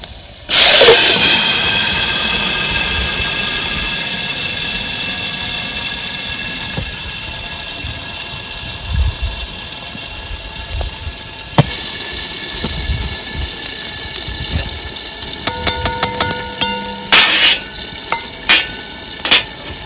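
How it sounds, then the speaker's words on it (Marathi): Hot oil spice tempering hits cooked chakvat greens with a loud burst of sizzling that settles into a steady hiss, followed by stirring and scraping clinks in the pan. "आता आपल्याला ह्याचा द्यायचा आहे भाजीचा तडका."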